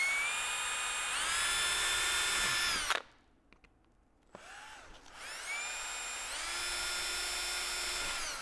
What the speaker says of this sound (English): I'm going to start those with an 1/8 inch bit.